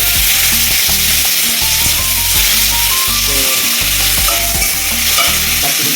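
Tomatoes for a sweet tomato chutney fry in oil in a wok, a loud, continuous close-up sizzle with stirring scrapes, while melodic background music plays softly underneath.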